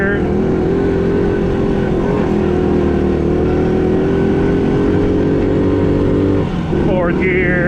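A 1970 Honda ATC US90 three-wheeler engine runs loud and close in low range, holding a steady drone and then rising in pitch through gear shifts, with a clear rev change near the end.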